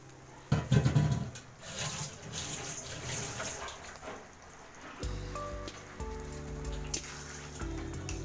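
Water from a rinsed bowl pours into a pan of simmering rohu fish curry with potatoes, a splashing, bubbling rush near and fairly loud at first, then a steady sizzling simmer, with brief clanking of utensils toward the end.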